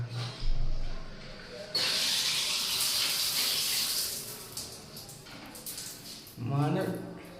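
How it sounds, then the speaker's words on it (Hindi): Shower spray runs steadily in a washroom, a broad continuous hiss of falling water that starts abruptly and fills the space, with a voice briefly heard at the start and again near the end. "देखिए झरना लगा है, झरना से नहाएंगे।"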